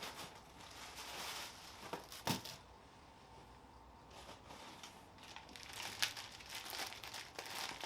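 Packaging for Ford Performance clutch and flywheel parts being handled and opened, with crinkling and rustling in bursts, a sharper tear or crunch near the start and again toward the end, close by with no talk.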